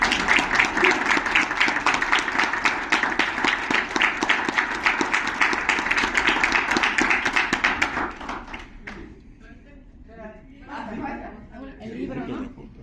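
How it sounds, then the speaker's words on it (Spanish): A university audience at an architecture and design school event breaks into dense, sustained applause for about eight seconds. Murmured chatter and a few voices follow as the clapping thins out. "Así que pues, un aplauso."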